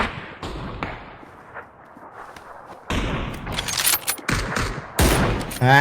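Sharp rifle cracks from a PUBG tournament match, several separate reports with bursts near the end, loud and close against quieter game ambience.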